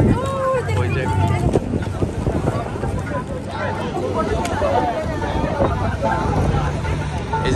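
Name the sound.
gunboat passing on the water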